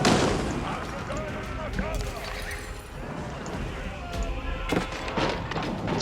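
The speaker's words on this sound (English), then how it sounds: "now the mangonels are able to unwind and get a couple of shots off" Mangonels fire in a real-time strategy game battle, with repeated thudding impacts and crashes amid busy combat noise, partly under a commentator's voice.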